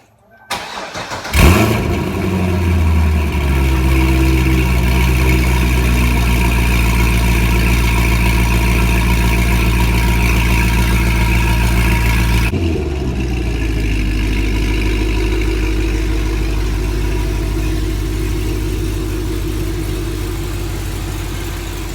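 A Corvette with chrome wheels freshly coated in Plastidip cranks over and fires up, catching with a loud burst before settling into a steady, rumbling idle that holds for the rest of the span with a brief dip midway.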